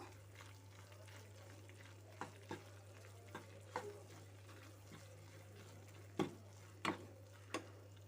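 A spoon stirs coconut-sesame spice powder into thick tamarind puliyogare paste, Karnataka style, giving scattered soft scrapes and wet clicks over a low steady hum, close but quiet.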